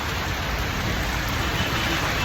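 Steady, dense monsoon rain hisses continuously near a Shiva temple in Ambernath, a close, even wash of noise with no voices.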